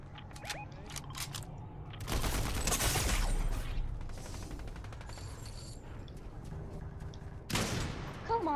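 Submachine gun bursts in the video game Fortnite, with loud rapid fire around two to four seconds and again near the end, plus clicks and game effects between.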